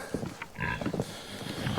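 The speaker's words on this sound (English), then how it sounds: "I think all these pigs right here have never seen snow." Pigs on a farm, standing in snow on a winter morning, give soft scattered grunts and one brief higher squeal. The sounds are moderately faint and close by, with no talking.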